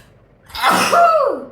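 A single sharp sneeze, loud and close, a quick intake followed by an explosive burst that tails off.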